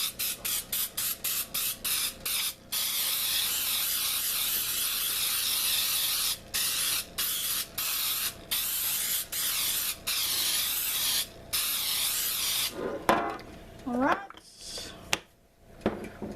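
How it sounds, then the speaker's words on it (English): Baking spray hisses onto a 9x13 pan in a quick series of short bursts, then one long steady spray, close and fairly loud, followed by a few clicks and rubbing noises as the can is set down. "spray a 9x13 pan."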